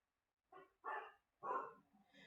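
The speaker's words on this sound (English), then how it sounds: "Don't mind my dog in the background." A dog barks in the background indoors, four or five quick separate barks with short gaps, fairly faint and alone without talk.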